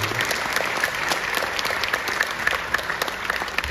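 Audience at a Hindi humorous poetry recital claps in a steady, dense round of applause throughout the short stretch.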